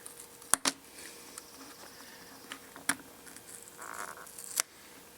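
Small needle nose pliers prying up a plastic part on an Elenco XP-15 DC power supply: a few sharp, close plastic clicks and snaps, spaced apart over quiet room tone, with no talking.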